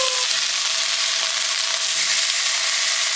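A crispy tilapia fillet sizzles loudly in a pan just after being flipped, a dense, continuous frying hiss close by and steady from start to finish.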